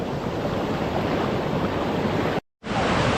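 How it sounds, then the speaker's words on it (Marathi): Water pours steadily over a bund in a village in Konkan, a continuous broad rushing roar close by, cut by a brief dropout near the end. "पाणी पण मस्तपैकी छान असं पडतंय"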